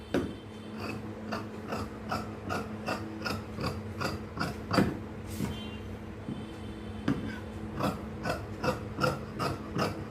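Scissors cut through chudithar cloth in a steady series of close, crisp snips and rasps, repeated rhythmically with no talking.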